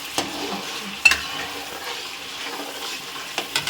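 Spices roasting and being stirred in a pan for a village-style dry fish curry, with a soft continuous sizzle and scattered scraping clicks of the spoon, no talking.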